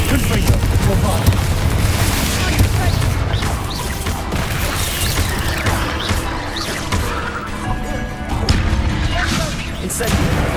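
Spell explosions such as Confringo and Bombarda in the video game Hogwarts Legacy, a loud, continuous run of booming blasts and crashes close by, with a voice heard among them.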